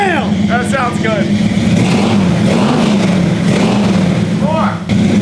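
Loud, sustained revving from a 340 Duster V8 hot rod that sat abandoned for 30 years, its engine note rising and falling under excited shouting and talk from people standing nearby.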